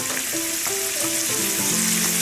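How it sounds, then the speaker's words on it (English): Steady, loud sizzling of tofu frying in a hot pan for dubu jorim, with faint scraping and stirring sounds throughout and no voices. "Frying that tofu."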